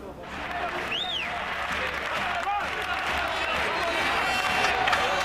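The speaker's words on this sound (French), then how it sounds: "Une sortie exceptionnelle tout de même sous les applaudissements de l'adversaire." Opposing team applauds as players leave the field after a match in Nîmes: steady, dense crowd clapping that holds for several seconds, with voices mixed in.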